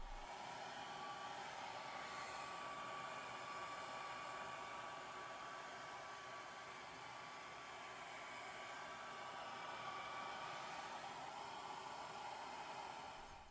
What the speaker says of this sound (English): I'll use a hairdryer to set the balm and quicken the drying process